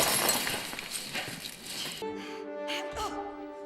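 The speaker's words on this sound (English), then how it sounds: "Just gotta smash the glass." Glass smashes with a loud, broad crash in a dinosaur-park scene from Jurassic World: Camp Cretaceous, its noisy shattering filling the first two seconds before giving way to steady tonal music and scattered sounds.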